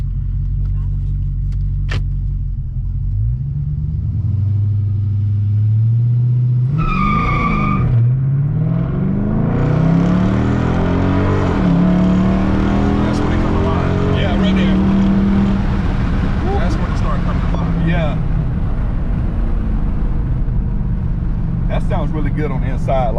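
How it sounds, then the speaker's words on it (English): A deep, throaty engine rumbles from inside a Dodge muscle car, revving up and climbing in pitch before settling into a steady loud drone. "I still want to give y'all guys a good idea what it sounds like from inside the car"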